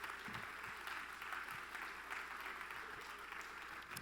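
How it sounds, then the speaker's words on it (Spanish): Congregation applauding at a church congress, a steady wash of clapping held at an even, moderate level throughout with faint voices mixed in. "¿Le puedes dar fuerte un aplauso a Dios?"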